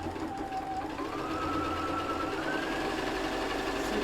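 Sewing machine stitching fabric for a vanity case, a continuous close mechanical whir with a faint steady rattle and a motor tone that rises slightly in pitch as it runs, no talk.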